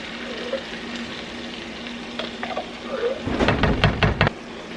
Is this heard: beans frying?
yes